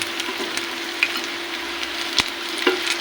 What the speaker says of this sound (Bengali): সুন্দর ভাজা হচ্ছে